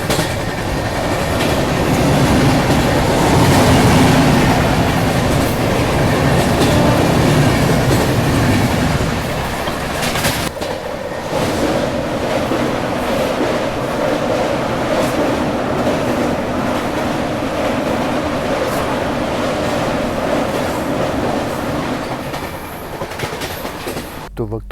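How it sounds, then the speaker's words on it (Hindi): The Malwa Superfast Express rumbles past at a crossing beside a halted New Delhi–Jammu Duronto train, a loud, sustained roar with rhythmic wheel clatter that shifts in tone midway through. "मेरे ख्याल से मालवा सुपरफास्ट एक्सप्रेस आ रही है वो।"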